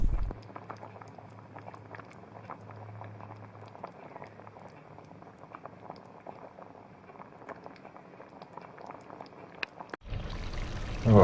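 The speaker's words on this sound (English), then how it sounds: "my curry here has been simmering away now for a good half an hour" Indian-style goat curry simmering in a pot, a steady close bubbling and soft popping that runs on evenly for about ten seconds before a sudden louder burst of noise at the end.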